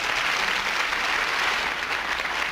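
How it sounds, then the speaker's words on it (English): Audience at a hypnotist and magician stage show applauding a volunteer called up from the third row, steady dense clapping throughout, fairly loud and uninterrupted. "Give him a big round of applause."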